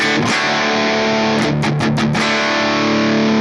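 Electric guitar played through a Boss GT-1000 modeling a Mesa Boogie combo amp with a drive tone, the volume level up at 90 and presence maxed, giving a sustained distorted chord followed by a run of short, choppy stabs, loud and alone.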